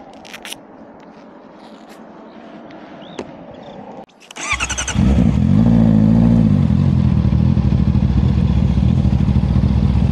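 Honda CB650R motorcycle with an aftermarket exhaust, heard on a road test: quiet at first, then after a clatter the engine bursts into a loud, steady, throaty roar that stays close and continuous.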